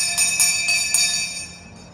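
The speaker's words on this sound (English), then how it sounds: "is the original bell, from a school of this era" An original bell from an old-era schoolhouse at a Christmas village rings in several bright, metallic strikes about a quarter second apart, loud and close, the tone hanging and fading away at the end.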